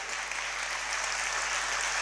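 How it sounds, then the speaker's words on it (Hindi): A large audience claps steadily at a Jain religious discourse in Damoh, dense continuous applause filling the hall with no pauses and no talk over it. "हाँ, अब लगा कि आपकी ताली में दम है"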